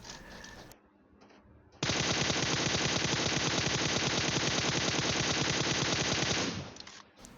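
Long-range automatic gunfire in PUBG Mobile, a rapid, continuous burst of closely spaced shots lasting about five seconds after a short quiet gap, loud and up front before cutting off abruptly.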